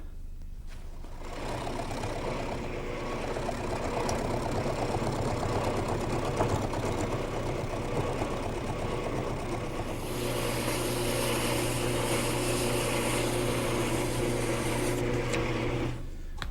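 Wood lathe turning a heavy, large workpiece held in a jig at a slow speed of about 500 RPM: a steady motor hum and rumble with a low drone that holds throughout and shifts tone partway, close by with no talking.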